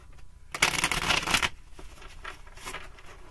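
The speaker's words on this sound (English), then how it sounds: "They're not shuffling." Tarot cards shuffled by hand in a riffling burst of about a second, followed by softer, scattered card rustling and flicks, close and fairly quiet.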